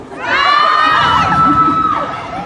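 A live concert audience screams and cheers in one loud, sustained burst of high-pitched shrieks and whoops that swells and fades, with no speech over it.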